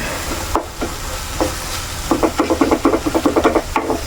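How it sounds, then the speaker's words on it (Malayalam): Soybeans tossed into a pan of sautéed tomatoes, with a rapid run of scraping stirs and a sizzle close by, quiet at first and then building into a quick rhythmic series of strokes. "ഇനിയിപ്പോൾ നമുക്ക് സോയാബീൻ ഇട്ട് കൊടുക്കാം"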